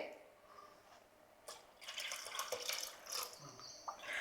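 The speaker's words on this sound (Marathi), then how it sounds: "मी अजून थोडंसं ह्याच्यात पाणी ओतते" Water pours and splashes into a container of raw mango and jaggery drink for a couple of seconds, quiet and close, after a brief near-silent start.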